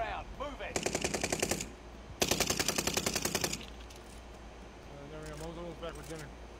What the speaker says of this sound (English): They're shooting from on top of the hill or something right now.